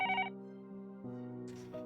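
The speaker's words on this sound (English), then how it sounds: "The next moment the phone rang." A telephone rings in the Higurashi visual novel video game, an electronic bell tone in two short bursts with a brief pause between, clear and alone.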